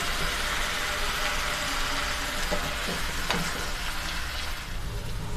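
Salted hilsa chutney with a little added water simmers in a pan, giving a steady soft sizzle and bubbling hiss throughout, with a few faint clinks and no talk.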